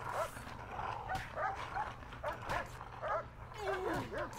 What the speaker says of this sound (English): And why are you fighting Laser, the guard dog?